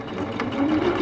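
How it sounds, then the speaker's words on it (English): A sewing machine runs steadily, stitching fabric down with a continuous close whirring hum for the full second, no talking over it. "And start sewing it down."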